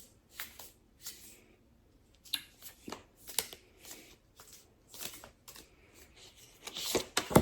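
A deck of thick cards is shuffled up close by hand for a card reading, with a series of quick papery riffles and snaps coming in irregular bursts and pauses, and no talking.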